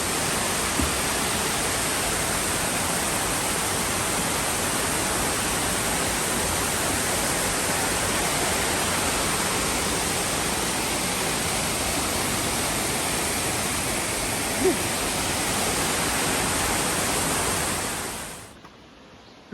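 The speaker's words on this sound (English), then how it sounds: "Up to the little overlook for Thundering Falls." Thundering Falls on the Appalachian Trail roars as a dense, steady rush of falling water, close and loud and unbroken, before cutting off abruptly at the end.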